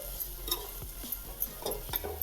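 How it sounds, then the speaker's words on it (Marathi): Moth beans stirred and sautéing in a pan, with a soft sizzle and intermittent scraping strokes of a utensil against the metal. "पाणी टाकायच्या आधी ही मटकी टाकायची त्यालाच परतून घ्यायची"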